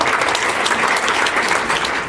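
An audience at an academic conference claps loudly and steadily, a dense wash of applause throughout.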